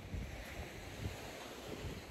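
Sea waves at Mui Ne beach washing in a low continuous rumble, mixed with heavy wind buffeting the microphone, steady and fairly close with no voices.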